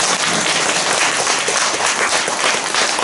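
Sustained, dense applause from a temple audience at a Buddhist memorial ceremony, steady and loud throughout with no pauses.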